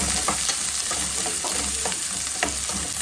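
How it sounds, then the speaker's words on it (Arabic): Two onions frying in hot oil on a gas stove, stirred now and then: a steady loud sizzle with scraping stir strokes recurring every half second or so, no voices. "هننزل بحبايتين بصل كده اهو ونسيبهم كده لحد ما تاخد تغليفة"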